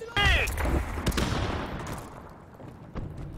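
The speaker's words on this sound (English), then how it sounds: "Oh, that was a good nade. That was a really good nade, but no one hit." A grenade blast with gunfire in a military video game, a loud burst near the start followed by a rumbling decay and scattered shots, with a brief voice-like tone at the beginning.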